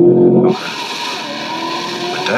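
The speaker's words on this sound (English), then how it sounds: "The other car does sound good, though." A loud engine roars, then jumps sharply in pitch as a 1200hp Corvette C8 race car launches in a drag race, holding a high, strained whine close by.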